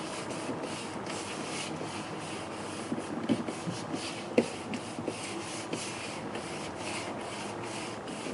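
Hand pressing and rubbing glued paper flat in a cartonnage craft, a soft continuous close-up rubbing with a few small taps and scrapes, no talking.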